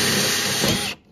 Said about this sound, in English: when I drill this out, I'll put the rivets in as I go